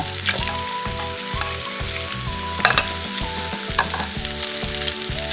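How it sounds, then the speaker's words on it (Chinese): Steady sizzling of minced garlic and pan-fried pork ribs in a hot wok with rhythmic stir-frying scrapes, continuous and close, with occasional louder clatters of the spatula against metal. "煎好之后加入蒜末炒出香味儿，翻炒均匀"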